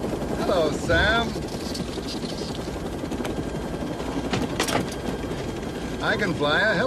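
A helicopter's steady mechanical whir runs throughout, with voices talking over it in short bursts at the start and end.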